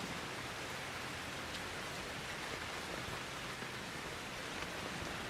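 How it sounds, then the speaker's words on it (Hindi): Steady rain pours down evenly in the Outlast 2 game world, a dense continuous hiss of drops with no break and no other sound standing out. "खून की बारिश"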